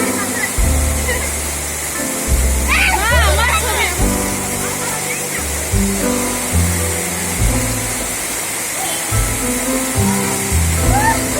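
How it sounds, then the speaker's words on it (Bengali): A waterfall near Coimbatore roars steadily and loudly up close, with people talking and calling out over the rushing water. "এই ঝর্ণার মধ্যে ডুবে যা।"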